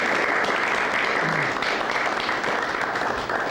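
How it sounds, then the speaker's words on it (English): A historical society audience gives a sustained round of applause after a Chautauqua program, thick continuous clapping with no talk over it. "I'd like to have a nice round of applause for"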